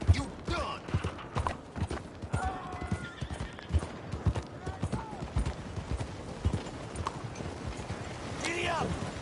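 A horse gallops in Red Dead Redemption 2 on PS4, its rapid clip-clop hoofbeats close and continuous, with whinnies and a person's voice talking over it.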